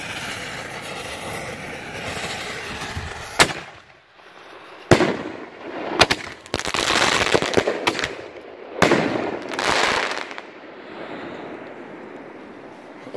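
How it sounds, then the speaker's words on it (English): Pyrotechnic fireworks shells going off outdoors: several sharp, loud bangs at irregular intervals, each followed by crackling and hissing bursts and a rumbling tail, with quieter gaps in between. "Gonna do some pyro here."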